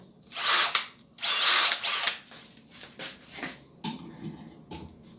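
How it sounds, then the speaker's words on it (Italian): A power drill at high speed taps a 6 mm thread, whirring in two strong bursts, then quieter mechanical clicks and rattles follow. "Faremo l'altro filetto sempre di 6, però con la velocità più alta del trapano."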